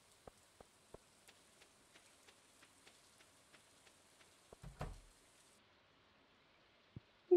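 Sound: rain falling in the video game Stardew Valley

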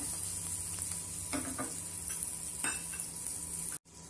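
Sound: stirring yam chokha with spices in a pan

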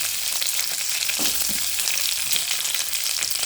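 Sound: chopped onions frying in hot oil

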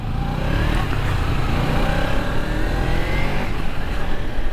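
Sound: Kawasaki Ninja 300 motorcycle riding in city traffic

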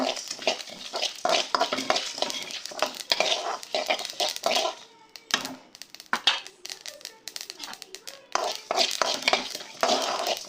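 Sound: dry roasting pepper and chillies in a pan

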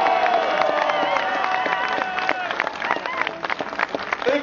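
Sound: crowd applause for Filip Gilbert at Brabantse Pijl

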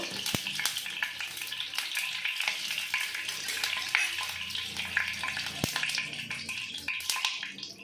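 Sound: egg frying in oil

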